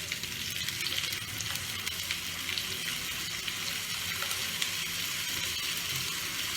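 Ginger garlic paste sizzles in a hot pan of oil with onion juice while making Bengali pabda fish tel jhal; a steady, loud, dense hiss and crackle runs throughout, with no voices.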